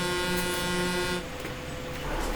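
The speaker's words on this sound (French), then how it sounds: "Je l'entends klaxonner d'ici." A vehicle horn in a convoy of trucks sounds one loud, steady, brassy blast for about a second and then cuts off, leaving road and engine noise.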